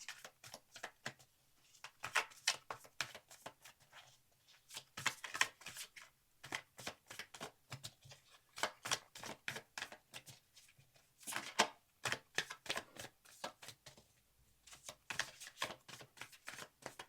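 Tarot cards shuffled for a reading, quiet and close, with rapid crisp riffling clicks in repeated bursts and short pauses between them.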